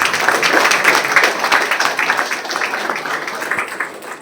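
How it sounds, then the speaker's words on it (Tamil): Audience applause at an international Tamil internet conference held at a college, steady dense clapping from a hall crowd throughout, gradually thinning slightly toward the end. "மீண்டும் ஒரு முறை உங்களுடைய கைத்தட்டத்தில்"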